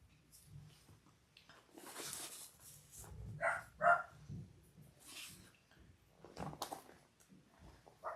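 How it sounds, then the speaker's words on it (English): Household dogs bark indoors, a few sharp barks and yips scattered among quieter rustling and handling noises, moderately close but not loud. "Sorry for the barking dogs."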